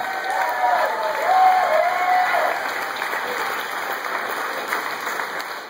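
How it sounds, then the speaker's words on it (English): Wedding guests give a big round of applause at an evening reception, a dense, steady clapping that stays loud throughout with a brief swell near the start and faint voices mixed in. "giving a big round of applause"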